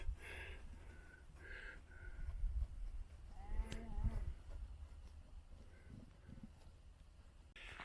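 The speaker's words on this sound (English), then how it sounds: "You see old sheep taking shade under that dry stone wall." Sheep bleat now and then in a warm countryside field beside a dry stone wall, distant and fairly soft over a steady outdoor background of wind and ambient noise.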